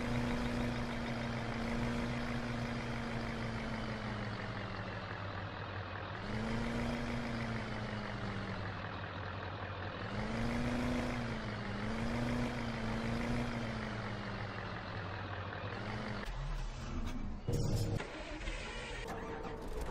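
Pickup truck engine in Farming Simulator 2015, a steady droning hum with a tonal whine that rises and falls in slow waves as the vehicle revs and eases off, ending in a brief burst of clatter.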